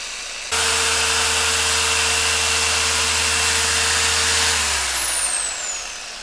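A Harbor Freight dual-action polisher runs steadily while compounding polish onto a headlight, a loud continuous electric motor whine with a low steady hum, starting abruptly and winding down near the end.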